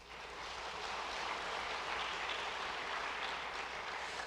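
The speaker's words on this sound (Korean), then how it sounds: "우리 박수로 위로하도록 하겠습니다" A church congregation claps during a Sunday worship service, giving a steady, even wash of applause that swells slightly and holds for several seconds without talk.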